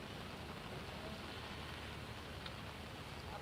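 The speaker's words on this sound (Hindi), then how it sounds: "कोहरे के साथ साथ तेज़ बारिश जो है वो इस वक्त हो रही है" Heavy rain falls through fog during a cold winter spell in Delhi-NCR, a steady, dense hiss that continues unbroken throughout with no voices.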